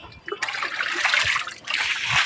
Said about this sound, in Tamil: இது முருகர் அபிஷேக தண்ணி அடைச்சிக்கிச்சு. அதை சீர் பண்ணிக்கிட்டு இருக்கோம